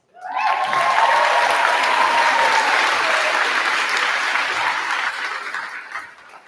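A graduation ceremony crowd at a high school breaks into loud, full applause that swells quickly, stays dense for several seconds and then tapers off.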